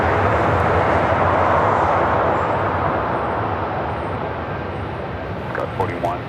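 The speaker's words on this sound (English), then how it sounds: "France 777, flight 21, heading back to Paris, now heading up for your north side at takeoff." An Air France Boeing 777 roars on its takeoff run at Los Angeles International Airport, a loud, steady broadband engine rumble that fades slowly as the jet climbs away.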